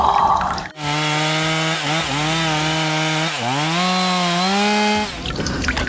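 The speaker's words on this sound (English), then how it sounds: "Chainsaw." A chainsaw runs steadily while being cleaned, its engine droning loud and close, with the pitch dipping and rising a few times before it cuts off, with faint splashing water before and after.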